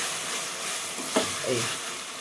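Red lentil masala curry stirred in a pan, a steady close sizzle with soft scraping strokes of the spoon around the middle, no talk.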